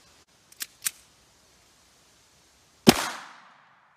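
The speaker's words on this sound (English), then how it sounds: "Really want to be able to shoot this load." A Walther semiautomatic .22 fires one sharp, loud shot of Federal Punch ammunition with a short ringing tail, preceded by two small mechanical clicks.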